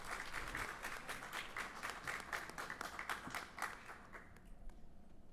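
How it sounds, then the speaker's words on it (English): A crowd of spectators applauding cadets at a Coast Guard academic bowl championship, steady dense clapping with sharp individual claps, sustained for several seconds at moderate level before thinning out near the end. "One more round of applause for all of our cadets."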